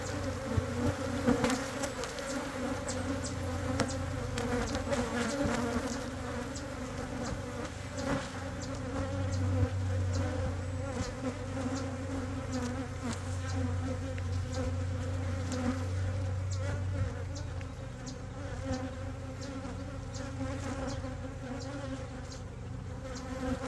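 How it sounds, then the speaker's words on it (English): A dense mass of honey bees buzzes continuously during hive shaking for swarm control in single-deep hives, a loud, steady droning hum with scattered knocks and thumps of frames throughout. "There's so many bees."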